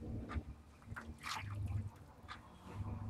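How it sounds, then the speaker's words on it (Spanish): Salted water is poured into a conductivity test setup, a soft trickle and splash that comes in brief bursts, faint and close. "le decimos al asistente que le eche agua"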